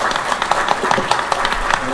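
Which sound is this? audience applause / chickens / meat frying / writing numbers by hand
audience applause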